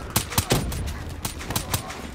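Several sharp gunshots ring out in an irregular burst, close and loud, with brief pauses between the bangs, in the video game Call of Duty: Black Ops 3.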